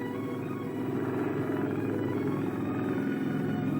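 A helicopter carrying a Whittaker survival capsule in a 1973 air-sea rescue demonstration gives a steady, loud rotor and engine drone that stays constant throughout.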